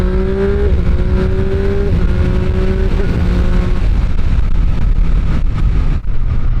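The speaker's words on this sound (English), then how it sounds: "That was full throttle, second gear, third gear and fourth gear." A Triumph Street Triple 765 RS Moto2 Edition motorcycle pulls hard at full throttle, its engine note climbing through second, third and fourth gear with quick dips at each shift, loud and close throughout.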